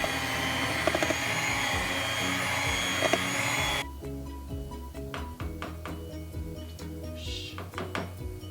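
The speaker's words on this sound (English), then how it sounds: "now I'm gonna mix together my coconut flour, my melted ghee, and my cashew dough and blend it together with a mixer" An electric mixer blends coconut flour, melted ghee and cashew dough with a loud, steady motor whir. After a few seconds it cuts off abruptly, leaving a few light knocks and faint background sounds.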